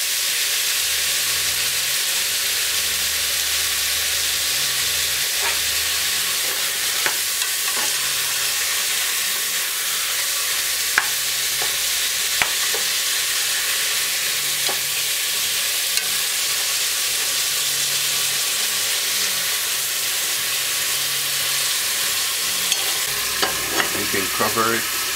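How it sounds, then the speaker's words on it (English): Jamaican stewed peppered steak simmering in a pot, a steady bubbling sizzle with occasional clicks and scrapes of stirring, close and continuous with no talk. "Allow it to simmer for about 2 minutes."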